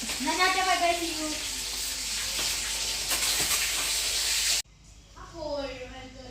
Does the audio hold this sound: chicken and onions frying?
yes